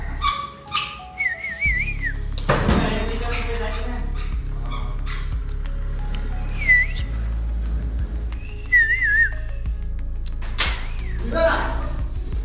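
A person whistles short wavering tunes inside a closed room, several brief phrases spread through the clip amid door bangs, thumps and talking voices.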